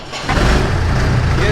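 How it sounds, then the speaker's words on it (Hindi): An old 1969 CJ3B vehicle engine catches on the first try, a loud, steady close-up rumble settling into a running idle right after a brief quieter start. "ये देखो, पहली स्लप के अंदर स्टार्ट हो गई है ये गाड़ी।"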